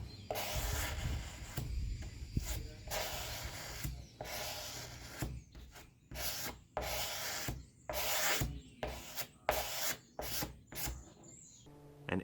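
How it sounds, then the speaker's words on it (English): Thin layer of fairing compound being spread and smoothed with a gift-card spreader, heard as repeated close scraping strokes of uneven length, quickening into short rapid swipes near the end, with no voices. "usual gift card spreader and do my best to smooth out a nice thin layer of fairing compound"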